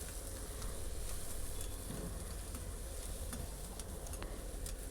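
Small finely chopped onions sizzling steadily in a hot cumin tempering, with occasional stirring scrapes over a continuous close frying hiss.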